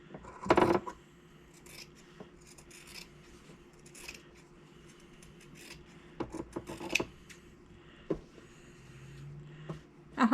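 Scissors cut down the middle of quilt-top fabric, giving sparse, quiet snips and rasping rubs spread across a soft background, with a few louder bursts near the start and end.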